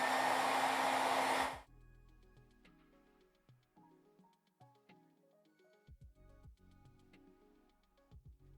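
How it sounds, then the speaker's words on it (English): A hair dryer blows steadily and loudly for about a second and a half on paint glaze drying on a Gwenom miniature from Marvel: Crisis Protocol, then cuts off, leaving faint ticks and light tapping. "So again, we're going back to our hair dryer."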